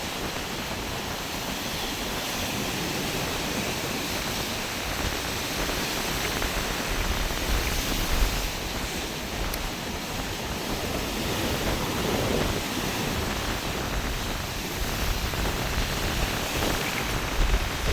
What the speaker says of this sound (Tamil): இப்போ பார்த்தீங்கன்னா உங்களுக்கு தெரியும் எப்படி அலை தாக்குதுன்னு சொல்லி